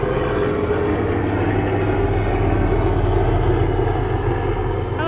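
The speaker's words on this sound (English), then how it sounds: "It's not an airplane, it's a helicopter." A loud helicopter drones steadily overhead, its rotor and engine noise continuous and close for several seconds with no voices.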